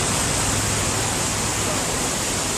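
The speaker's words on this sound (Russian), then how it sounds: "Целая река идет, посмотрим." Floodwater rushes like a whole river through streets during a flood in Sochi, Russia, a loud, dense, continuous roar of churning water that stays constant throughout without breaks or voices.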